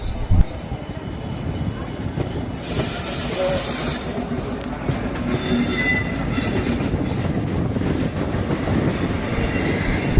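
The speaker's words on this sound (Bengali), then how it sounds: "এখন আমাদের বাদিকে যে ট্রেনটি হাওড়া থেকে ছেড়ে যাচ্ছে" A train departing Howrah station rumbles past nearby with steady low wheel noise, hiss and occasional metallic squeals, while a voice talks over it.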